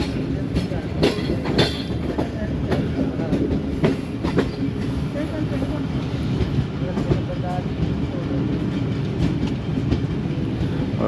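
A Subak Raftar railcar runs on rails between Gujrat and Rawalpindi, with a steady loud rumble and repeated clickety-clack wheel beats heard from inside, continuous throughout.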